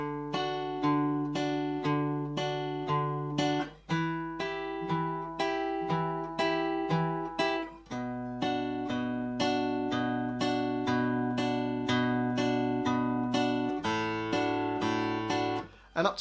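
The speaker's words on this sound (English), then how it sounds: "So let's try the whole line nice and slowly." Fingerstyle acoustic guitar slowly picking the repeating melody line of a pop song, clear plucked notes ringing over low bass notes, close and steady with brief pauses between phrases, no voices.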